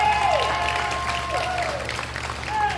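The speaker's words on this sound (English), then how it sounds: "Everybody give a round of applause to Dora High School for letting us be here." A crowd at a wrestling show in a high school gym applauds steadily, with sliding whistles and cheers rising over the continuous clapping.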